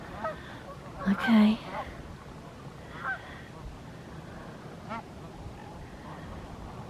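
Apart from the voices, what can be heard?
Canada geese honking at a lake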